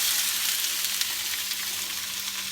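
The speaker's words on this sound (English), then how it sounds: "See, the green chilies are also popping. Now you add onions," Green chilies and onions sizzle in hot oil in a pan for a dal makhani base, a steady, dense, close crackle with faint pops running throughout, and no talking.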